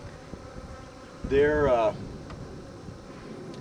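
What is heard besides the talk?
bees buzzing near a beehive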